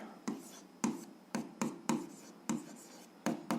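A pen or chalk writes an equation by hand, giving about ten quick, close scratchy strokes in an irregular rhythm against a quiet background.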